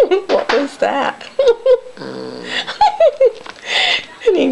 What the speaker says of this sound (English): And he growls when he plays with it.